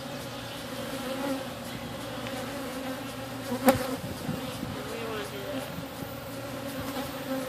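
Dense, steady buzzing of many honeybees close by at a congested hive being split, with a short bit of quiet talking partway through.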